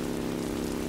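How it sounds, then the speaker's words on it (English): Rain falls in the Roblox game Bloxburg, a dense, steady hiss of downpour that fills the brief moment with constant, even texture. "because I'm in the rain."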